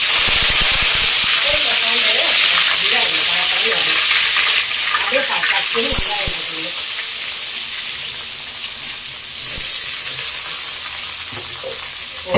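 Fenugreek and mustard seeds fry in hot oil in a pan for a meatball curry, a loud continuous sizzle and crackle with scattered pops that settles slightly quieter partway through.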